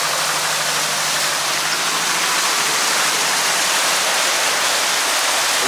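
A Land Rover Defender drives through water and throws up a big wave, with a loud, continuous rushing splash over a low engine drone, close and without talk.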